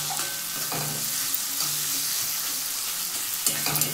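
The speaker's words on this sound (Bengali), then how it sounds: "দিয়ে আমি একটু নাড়িয়ে নিচ্ছি।" Fried onion and tomato being stirred with chili powder in a pan for vegetable masoor dal, a steady sizzle with scraping stirs of the spoon throughout, close and fairly loud, no voices.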